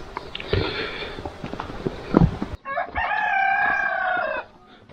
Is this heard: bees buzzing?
no